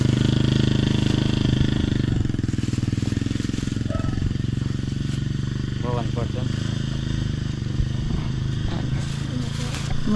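A motorcycle engine rumbles nearby on a town street, a loud, continuous clattering drone throughout, while people talk over it.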